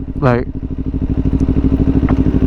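A modified motorcycle engine runs close by with a steady, rapid pulsing throb, and a brief voice cuts in near the start.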